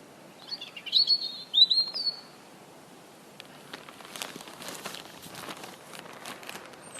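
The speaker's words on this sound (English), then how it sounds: "Love the sound of birds." Small birds chirp in a few quick bursts of high, bright tweets early on, followed by soft rustling and light footstep-like crunches in a quiet outdoor setting.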